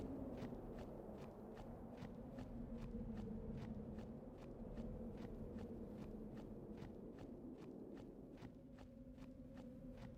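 Steady, evenly paced footsteps of a character walking in Final Fantasy X, about two steps per second, crisp and clear over a continuous low musical drone with no talking.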